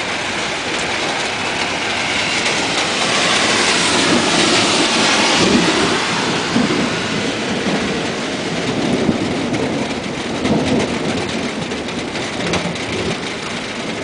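Thunder rolls after a close lightning strike in a storm: a loud, continuous, broad rumble that swells in the middle and lingers for the whole stretch, with no voices.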